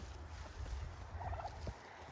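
Turkeys at a backyard chicken garden in the Pacific Northwest let out one brief, faint gobble partway through, distant under steady low wind and outdoor rumble.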